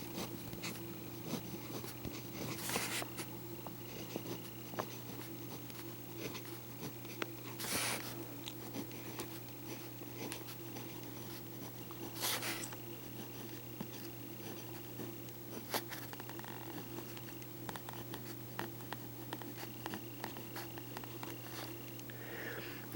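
Fountain pen scratching across paper while writing with Pilot Iroshizuku Tsuki-Yo ink, a soft, close, continuous scribble over a steady low hum, with a few brief louder strokes.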